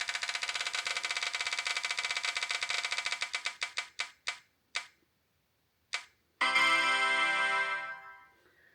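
A prize wheel spins and ticks rapidly at first, the clicks gradually slowing and spacing out until it stops. A few isolated ticks follow, then a brief louder rattle that fades.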